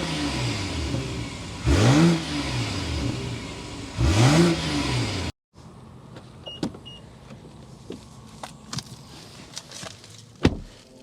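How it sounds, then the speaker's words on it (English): A 2025 BMW X6 xDrive40i engine idles and revs sharply twice, the exhaust note rising and falling each time, followed by quiet interior clicks and small knocks. "start it up so you can hear that exhaust note."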